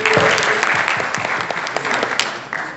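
An audience at an alumni day forum applauds the staff with steady, close clapping that carries through the whole stretch.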